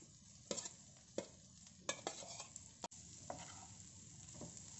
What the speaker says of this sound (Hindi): थोड़ा सा अच्छी तरह से इनको मिक्स करेंगे।